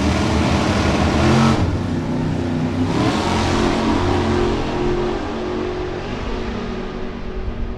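Two drag cars launch side by side, a 1969 Ford Mustang against a 1967 Camaro: loud, close engines roar at full throttle, with a brief surge around the start and a steady howl that slowly fades as they pull away.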